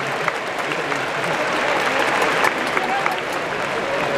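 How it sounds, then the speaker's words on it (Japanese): Stadium crowd applauding to welcome a guest before a ceremonial first pitch at a Chunichi Dragons versus Yokohama DeNA BayStars baseball game at Vantelin Dome Nagoya, a broad steady wash of clapping with a few sharper claps standing out. "拍手でお 迎えください"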